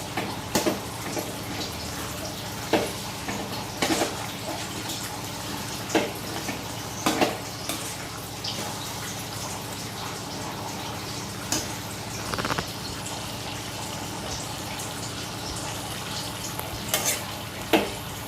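Ground spice powder frying in oil for a beef pepper gravy, stirred with steady sizzling and scattered scraping clicks of the spoon against the pan, close and continuous with no talk.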